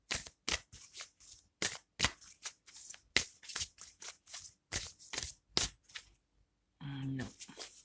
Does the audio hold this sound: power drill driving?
no